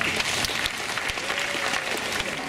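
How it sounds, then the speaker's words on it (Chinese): Audience at a school assembly breaking into steady, dense applause, continuous clapping filling the hall without a break. "大家热烈鼓掌"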